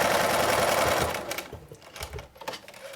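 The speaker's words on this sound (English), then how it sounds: "we're going to sew a small little seam down the center front of this" A sewing machine runs in a fast continuous whir as it stitches a seam down the center front of a fabric face mask, then slows into a few separate thumps and clicks.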